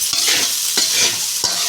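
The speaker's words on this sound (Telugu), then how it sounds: "గోబీ తెచ్చుకొని ఇది ఒకసారి మళ్ళీ కలుపుకోవాలి" Gobi rice being stirred in a hot frying pan, a steady sizzle with three distinct scraping strokes of the spoon at regular intervals, close and loud with no talking.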